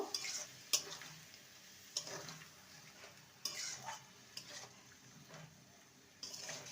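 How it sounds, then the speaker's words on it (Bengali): A spoon stirs spinach and mixed vegetables in a pan, with scraping and clinking against the metal at several irregular moments over a soft sizzle of cooking vegetables, close by and without speech. "সবজিগুলো প্রায় এইটটি পার্সেন্ট কুক হয়ে গেছে সামান্য জল দেব ভালো করে নেড়ে নেব"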